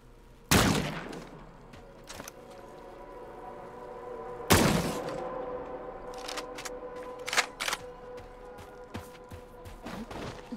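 Gunfire in the alien-world shooter Scars Above, two loud separate shots several seconds apart followed by softer thumps and clicks over a steady ambient hum.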